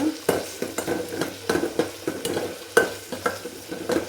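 Chopped tomatoes frying in a pan for a sambar made with colocasia (taro) leaves, with a spoon stirring and scraping in a steady rhythm of repeated knocks over a low, continuous sizzle, close and fairly quiet.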